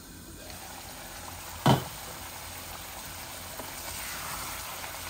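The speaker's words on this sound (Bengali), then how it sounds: "বলক আসতেছে" A pot of curry with meat and potato nears the boil, giving a quiet, steady bubbling hiss with a single short clink partway through.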